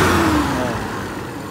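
An engine, freshly repaired after a flooding, hard-starting carburetor, runs steadily at a smooth idle with no choke, a loud and close continuous mid-pitched hum that eases slightly in level.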